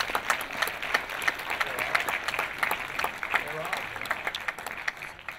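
Audience applause at a cinema Q&A with cast and crew, a dense steady clapping from a full house that holds at even loudness for several seconds.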